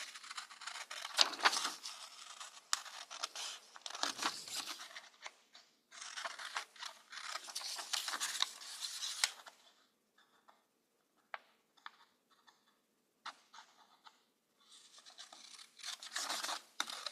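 Scissors cut through paper cups in repeated bursts of crisp snipping and crunching, separated by quiet pauses and small ticks, close and faint.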